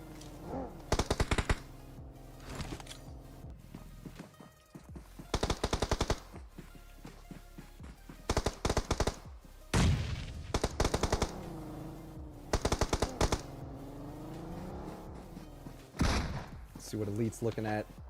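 Video game gunfire during a competitive esports quarterfinal match: repeated bursts of rapid automatic fire in clusters, loud and close, with a commentator talking excitedly over and between the bursts.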